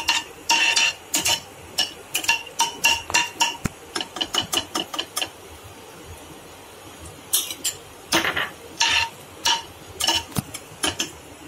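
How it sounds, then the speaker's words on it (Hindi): A metal spoon clinks and scrapes against a pan while small green cardamom pods are stirred in hot ghee, in quick clustered bursts of sharp taps separated by short pauses. "छोटी इलायची को हम इस घी में डाल देंगे और जब तक ये फूल नहीं जाती है तब तक इसे अच्छे से चलाते रहेंगे।"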